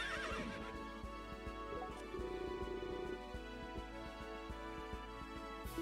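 At the stables in Berwick Saga, a horse gives a loud whinny at the start, followed by steady rhythmic clip-clop hoofbeats and background game music, with no talking.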